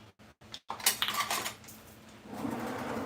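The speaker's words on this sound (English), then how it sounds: "I'm going to give this a good stir to incorporate everything that I just added" Utensil scraping and clinking against a mixing bowl while a mixture is stirred in a home kitchen, a quick run of close metallic taps and scrapes followed by a duller, softer swirl.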